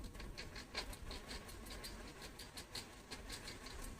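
Sewing machine stitching the shoulder seam of a garment, a steady fast needle patter with evenly repeating clicks, fairly quiet and continuous throughout.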